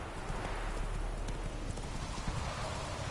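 Hooves of the horse Roach in the Witcher 3 game clop steadily and close for about three seconds, a continuous trotting rhythm over a dense background bed, with a brief whinny-like hint and no talk.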